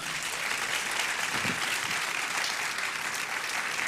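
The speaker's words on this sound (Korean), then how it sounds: "우리 나오실 때 큰 박수로 환영하시겠습니다" A church youth-service congregation gives a steady, enthusiastic round of applause to welcome a pastor to the front, a dense continuous clapping that holds for several seconds in a large room.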